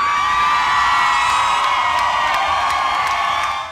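A large audience at a dance competition in Canada roars with cheers, whoops and shouts for the final dancer, a loud, sustained wall of crowd noise that slowly eases toward the end.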